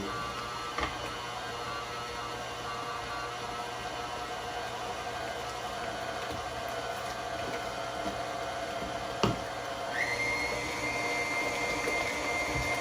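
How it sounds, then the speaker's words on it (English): A KitchenAid stand mixer whips potatoes with milk, a steady close motor whir with a faint liquid churn, rising slightly in pitch near the end, with no talking. "Love the KitchenAid mixer. It makes this whole process a lot easier."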